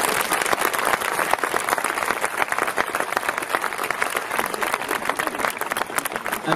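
A large audience at a girls' school annual day function gives a loud, sustained round of applause, dense and continuous throughout with no speech over it.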